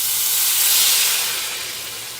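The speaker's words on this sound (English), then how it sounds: "it's going to make a big sizzle" Fresh cream corn hitting a hot pan, a loud, bright hissing sizzle that surges at once and then slowly eases off, with no talk over it.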